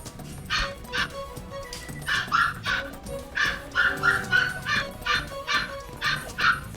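Repeated sharp dog barks in uneven bursts, some high and yappy, over a low background hum.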